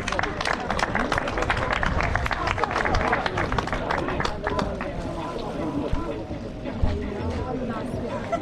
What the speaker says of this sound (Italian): Un applauso ai primi tre classificati.